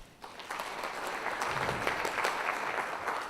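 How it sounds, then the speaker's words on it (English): Audience at a municipal conference opening ceremony in Johannesburg applauding, a dense, even patter of many clapping hands that builds and carries through to the end. "A round of applause, please."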